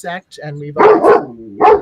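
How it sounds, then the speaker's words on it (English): A dog barks three times close to the microphone, loud yappy bursts spaced unevenly and cutting across a person talking indoors. "that's my dog"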